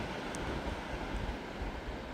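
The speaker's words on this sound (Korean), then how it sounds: "파도가 올라오고 있습니다." Waves surge onto a beach at Mallipo Beach in Taean at high tide at night, a steady, broad roar of surf with low rumbling swells and no voices.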